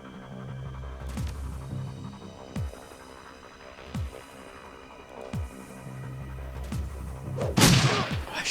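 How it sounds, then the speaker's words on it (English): A grenade blast in the turn-based cyberpunk video game Shadowrun Returns bursts out near the end over a steady humming, throbbing game soundtrack with periodic low thuds. "let's use somebody else's grenades"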